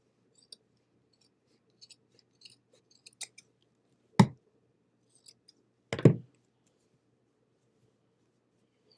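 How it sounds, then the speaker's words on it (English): Scissors trimming excess material from a gnome door hanger craft, two distinct close snips amid faint quiet clicks, no talking. "now I'm going to trim off the excess here, so you could probably cut that"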